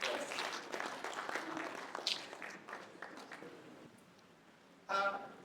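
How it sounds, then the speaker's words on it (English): A conference audience applauds, a dense wash of clapping that fades away over several seconds before a brief renewed burst near the end. "A round of applause for him."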